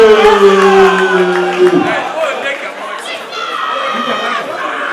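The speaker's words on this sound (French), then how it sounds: "Applaudissez très fort." Wedding guests cheer and chatter in a loud, crowded hall, with whoops rising over a steady wash of voices after an amplified voice fades at the start.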